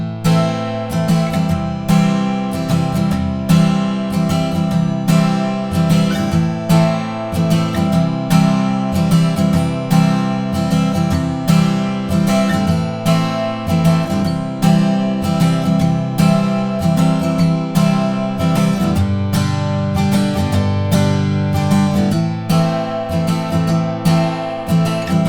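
Acoustic guitar strums the intro chords in a steady, repeating strumming pattern, close and loud, with chord changes and no voices.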